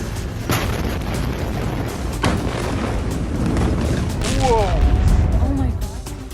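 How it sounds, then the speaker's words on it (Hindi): An explosion outside a church in Beirut sounds as loud booming bursts over a continuous roaring rumble, with voices heard in the background. "अचानक जोरदार धमाके की आवाज आती है।"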